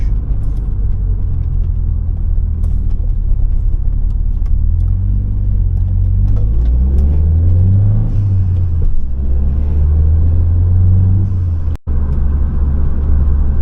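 Ford Cosworth car engine accelerating on an open road under turbo boost, a loud steady rumble from inside the cabin that rises and falls as revs climb, with no talking.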